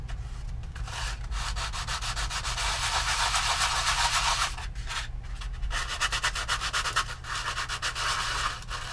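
Hand sanding of a wooden model ship part, a steady rubbing scrape in long continuous strokes with brief pauses, close and fairly loud, no voices.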